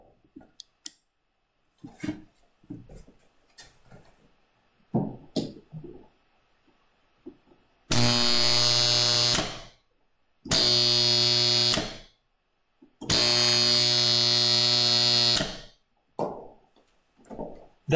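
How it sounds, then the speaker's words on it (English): Loud buzzing chatter from an AC contactor with a faulty shading coil, its contacts rattling rapidly in three sustained bursts of a few seconds each, preceded by light clicks and handling noises. "That loud chattering that you just heard is the actual contacts opening and closing 120 times a second as the AC sine wave travels through zero."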